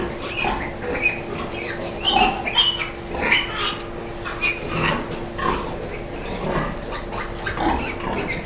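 Thirty-day-old piglets grunt and squeal softly while eating, with scattered chomping and shuffling over a steady low hum throughout.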